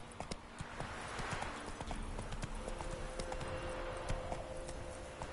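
A horse gallops in The Witcher 3, its hoofbeats a steady rapid clatter at moderate loudness over a constant ambient bed with a faint sustained tone.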